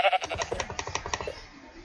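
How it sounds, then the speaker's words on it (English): Sheep in the Minecraft video game bleating in a quick run of short wavering calls, close and clear, fading out after about a second and a half. "we're gonna shoot the sheep with the spectral arrow"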